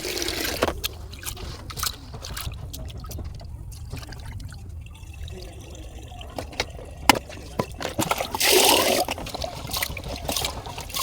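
Mung dal lentils being washed in water in a home kitchen while khichuri is prepared: an uneven trickle and slosh of water with scattered clinks and splashes, a louder pouring burst near the end, faint talk underneath.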